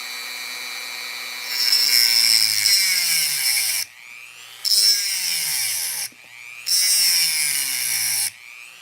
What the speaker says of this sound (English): We're gonna Dremel this one out.